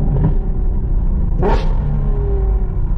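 A Lamborghini Urus engine in Dubai gives a loud, close rumbling idle, then a short sharp rev blip about halfway through before settling back to a steady low drone.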